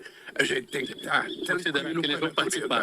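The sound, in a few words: bird singing outdoors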